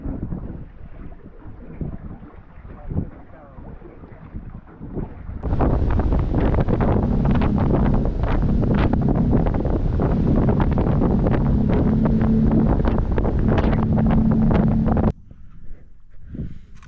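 A boat under way at sea on the Great Barrier Reef, its engine rising to a loud, steady drone with heavy wind and water rush, then cutting back near the end.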